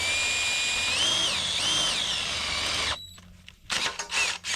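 Split point drill bit boring through hot metal on an abandoned windmill, a steady high whine for about three seconds that drops off, then brief rattling as the bit clears.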